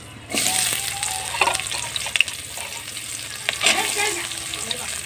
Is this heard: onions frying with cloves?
yes